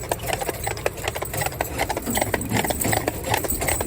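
Hooves of a pair of Friesian mares clip-clopping steadily on a hard road, a brisk rhythmic clatter over a low engine-like rumble, fairly close.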